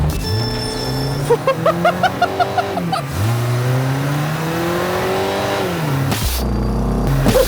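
A loud, close stock car engine runs on nitrous, revving hard and sweeping up and down in pitch with a quick run of sharp pulses early on, then one more climbing rev and a sudden drop.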